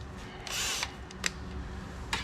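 A power drill backs screws out of a printer casing during scrapping, with a sustained whir near the start and a couple of brief, sharp bursts later, close and fairly loud.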